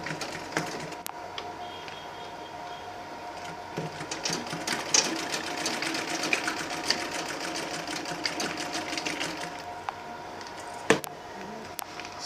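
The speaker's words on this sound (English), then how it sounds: "Now I can now stitch my lining onto it around." Sewing machine running steadily as it stitches a lining onto an Ankara fabric handbag with leather trims, a continuous close mechanical whir with brief pauses and small clicks.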